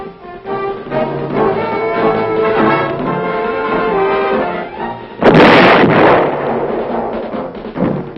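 A tank gun fires at a moving target on a rail-mounted range at Aberdeen: one heavy, close blast cuts across a music bed partway through, then a long rumbling decay.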